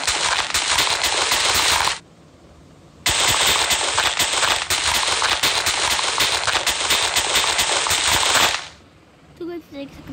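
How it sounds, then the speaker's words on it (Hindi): Rapid, dense crackling bursts of firecrackers in the video game Minecraft go off continuously in two long loud stretches separated by a brief pause, ending with a few faint pops. "ये पटाखों भी फटते हैं"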